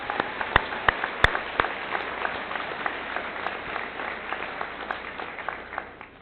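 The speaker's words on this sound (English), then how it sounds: "a round of applause for the graduates that aren't here" Round of applause from the audience at a 2019 Norfolk Collegiate high school graduation ceremony for graduates not present, a moderate steady patter of many hands with a few sharper claps standing out nearby.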